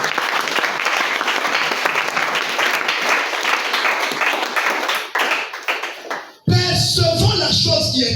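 A church congregation applauds God, sustained loud clapping from many hands that swells and then fades out before a sudden cut to a different, louder mix.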